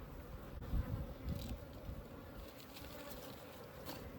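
Africanized honey bees buzz steadily inside a water meter box, a dense, continuous droning hum held close and even throughout, with no voices.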